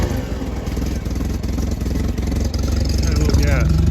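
The engine of an Allis Chalmers WD45 tractor, fitted as a reverse forklift, runs unevenly in cold weather after choke and gas, a loud steady chugging close to the microphone, with a voice partly over it.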